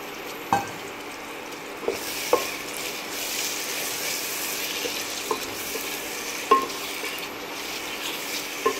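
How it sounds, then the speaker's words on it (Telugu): Mutton liver fries in plenty of oil, giving a steady, moderately loud sizzle throughout with a few sharp clinks and scrapes of a spoon stirring the pan. "ఇది కొంచెం మనం దీన్ని మంచిగా వేగనిద్దాం."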